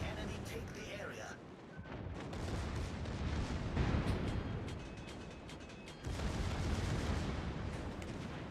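Heavy naval gunfire from the warship Hindenburg in a naval battle video game, with deep, booming salvos and rumbling blasts that swell and fade over several seconds, partly under a voice.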